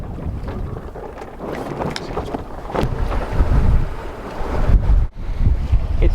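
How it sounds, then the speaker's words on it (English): Strong wind buffeting the microphone on a sailboat running under foresail alone in a big Atlantic swell, with rushing water and surging waves building and easing throughout. "Big Atlantic swell."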